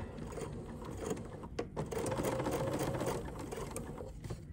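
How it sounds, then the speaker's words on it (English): A sewing machine stitches a rolled hem along the edge of a light, flowing fabric, giving a continuous close whirring mechanical hum with a few faint clicks and no voices. "I'm just gonna stitch very carefully onto the edge of this material for a few"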